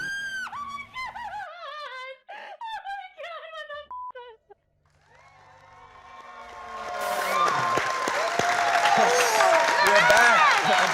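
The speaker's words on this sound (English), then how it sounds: "And people are cheering." Chatty speech with pauses gives way to a crowd swelling into cheering and applause, rising from faint to loud and dense over several seconds and holding there with whoops.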